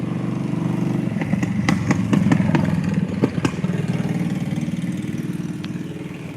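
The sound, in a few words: motorcycle engine passing on the road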